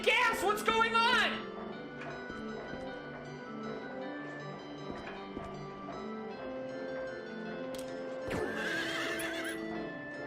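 A horse in a survival-horror video game breathes heavily and whinnies, with a sharp neigh at the start and another near the end over a low ambient drone; hooves clop faintly in between.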